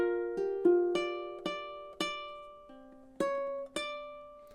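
A solo ukulele plucks measure 9 of a song as single ringing notes, about seven slow, evenly spaced plucks that each fade before the next.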